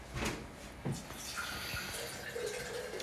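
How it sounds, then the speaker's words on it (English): Water poured into a kitchen container while making unhulled hemp and coconut milk, a continuous close splashing trickle with a few brief clinks. "add the rest of the water"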